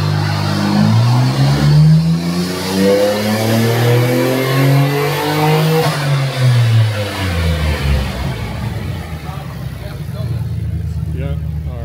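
A stock Nissan R34 GTR on a dyno runs a loud pull, engine note climbing steadily then falling back and settling, with a harsh continuous roar and a rising harmonic sweep throughout; voices talk faintly underneath.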